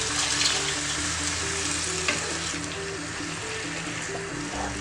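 Boiling water hits a pan of sizzling spicy potato curry, producing a continuous loud hiss and bubbling sizzle that holds steady from start to finish, with faint background tones underneath.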